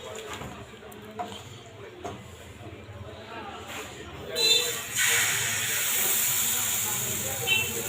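Chitoi pitha batter hits a hot oiled tawa and bursts into a loud, steady hiss that holds after some quieter kitchen clatter and low talk beforehand.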